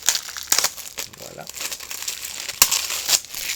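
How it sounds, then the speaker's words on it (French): Plastic film crinkles and tears off a Clifford Blu-ray case in quick, close bursts, with someone speaking briefly over the handling. "je vais prendre le temps de le déballer, vous montrer l'intérieur du boîtier"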